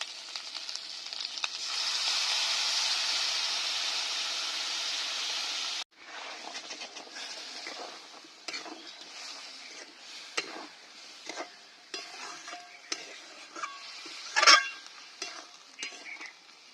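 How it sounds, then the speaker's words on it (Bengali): A spoon stirs whipped sour yogurt into dhaba-style chicken masala in a pan, with a steady sizzling wash at first that drops away abruptly, followed by quieter scraping and clinking strokes and one sharp metallic knock. "ফেটিয়ে রাখা টক দইটা দিয়ে দিচ্ছি।"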